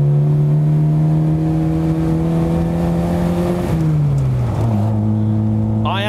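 A 27-year-old Lada Riva accelerating, its engine note climbing steadily and loudly up close, then dropping with a gear change and climbing again.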